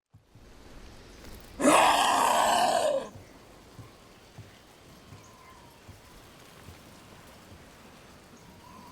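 Steady rain patters in the Dragon Age: The Veilguard game world as a soft, continuous hiss, broken early by a loud groaning vocal burst of about a second and a half.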